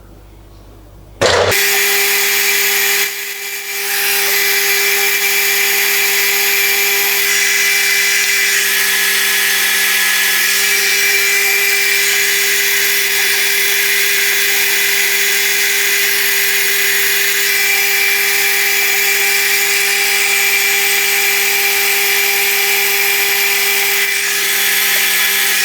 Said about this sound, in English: So it's set up ready to drill the first hole.